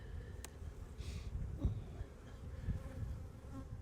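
Italian honeybees buzz steadily around an open hive brood box, a faint, continuous hum with occasional brief louder passes of individual bees and soft handling knocks of frames.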